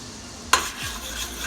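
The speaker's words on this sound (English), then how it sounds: "you're going to stir that flour all around" Flour is stirred into a pot for baked vegan mac and cheese: a sudden scrape of the spoon, then a light sizzle and rustling under a steady kitchen hum.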